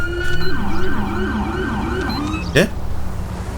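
A wailing police siren in GTA V rises and falls steadily, loud and close, with a brief sharp burst near the end over a low engine rumble.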